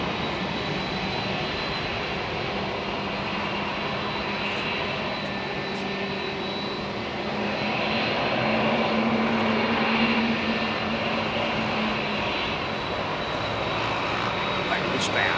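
Jet engines on a Boeing 787 airliner roar steadily at London Heathrow Airport as the plane starts to roll, the broadband rumble swelling louder partway through, with a voice heard faintly over it.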